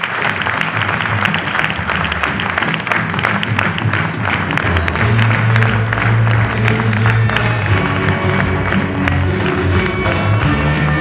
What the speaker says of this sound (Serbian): pozdravimo jednim velikim aplauzom Draganu Mitrović